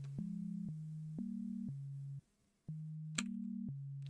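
Live-coded synthesized sine tones step back and forth between two low pitches in an even pattern, with a brief silent gap partway through and a short bright blip near the end, with no voices.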